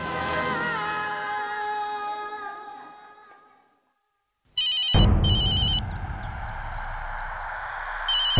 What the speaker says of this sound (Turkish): Samrat, al telefonu Rudra'yı ara.